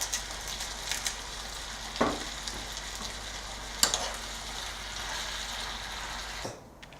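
A South African boerewors stew bubbles and sizzles softly in a pot, a steady low crackle broken by a few clinks and stirring knocks before fading out at the end.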